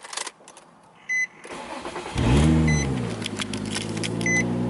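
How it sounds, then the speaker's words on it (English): A Nissan 350Z convertible starts up: a chime and a short electric whir come first, then the starter cranks and the engine catches with a rising roar that settles into a steady, close idle. "let's turn my car back on"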